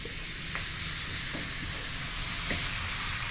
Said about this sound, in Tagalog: Yung pong ating mga bawang at sangkap na nakahiwalay, ipiprito po natin siya.